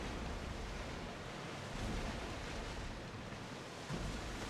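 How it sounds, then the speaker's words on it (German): Large ocean waves at sea in Assassin's Creed Odyssey, a constant loud broadband rush of surf and wind with gentle swells in intensity and no voices. "Doch Poseidon ist sauer, das schickt große Wellen"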